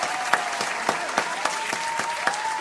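Applause from an audience at a live talk, steady dense clapping with a few sharper claps standing out, continuous throughout.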